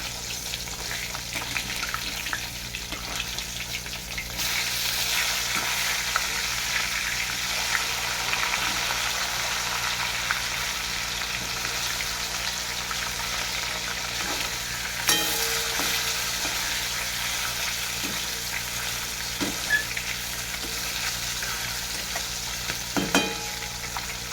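Catla fish pieces sizzle in hot oil, a constant close frying hiss broken by occasional clinks and scrapes as the pieces are turned in the pan, with a surge of sizzle partway through.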